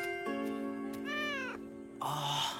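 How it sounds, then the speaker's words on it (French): A small kitten meows close by, a long drawn-out call that rises and falls, followed by a second shorter, brighter mew. "Oh, petit minou."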